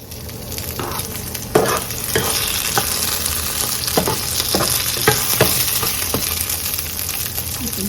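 Olive oil sizzling in a pan as a beef kaldereta garnish with olives is cooked, a loud steady fry with repeated scraping strokes of a spatula stirring, close and continuous.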